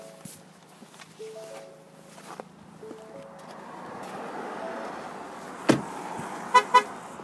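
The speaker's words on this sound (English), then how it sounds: "the vehicle will sound the horn a few times, that'll let you know it lost its protection at the proximity key fob" A 2018 Ford EcoSport SE 4WD sounds its horn in short toots, a few quick honks near the end after quiet footsteps and faint ambient noise.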